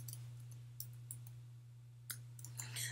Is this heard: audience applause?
no